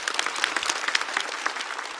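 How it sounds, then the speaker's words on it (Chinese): Applause from a live stand-up comedy audience, a dense and steady burst of many hands clapping together, loud and continuous for the whole moment with no voices rising above it. "再次把掌声送给小帕、哈曹、毛豆、秋瑞。"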